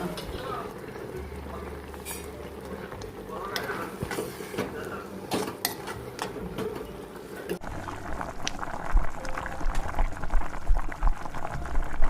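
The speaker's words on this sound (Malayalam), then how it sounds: "ഇത് നമുക്കൊന്ന് അടച്ചു വെച്ച് ഒരു രണ്ടോ മൂന്നോ മിനിറ്റ് ആ ഒരു പച്ചമണം മാറുന്ന വരെ ഒന്ന് വേവിച്ചെടുക്കാം" Amaranth and raw mango avial simmering covered in a stone pot, a gentle steady bubbling and hiss with occasional lid and utensil clinks, while someone talks.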